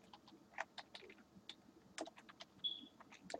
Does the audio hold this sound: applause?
no